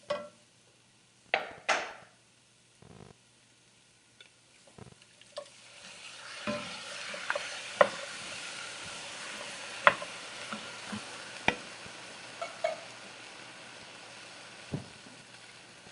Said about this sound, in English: Stir that, and now we're gonna add the diced tomato.